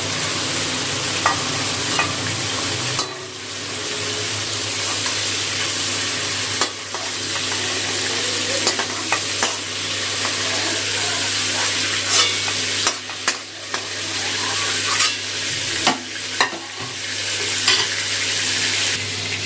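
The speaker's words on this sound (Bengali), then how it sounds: "চিংড়ি মাছটা ভেজে নিয়েছি, তেলটা থেকে নামিয়ে নেবো" Prawns frying in oil over a high gas flame and stirred in the pan: a loud, continuous sizzle close by, broken by repeated scraping and clinking stirs, with no talking.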